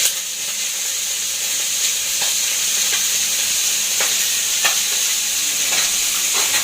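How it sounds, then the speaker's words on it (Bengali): Tengra and puti fish frying in a pan, a loud continuous hiss and sizzle up close, broken by a few scattered spatula scrapes and pops. "ট্যাংরা মাছ রান্না করতেছি, আগে ভাজি করে দিচ্ছি"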